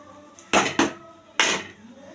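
A metal lid clanks onto a cooking pot of Bengali rohu fish curry, three sharp close knocks in quick succession, two together and one a moment later, each ringing briefly before fading.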